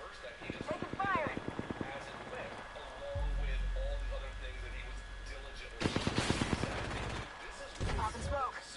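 Automatic gunfire in the Apex Legends battle royale game: rapid bursts of shots in two spells, with game sound effects and a voice speaking between them.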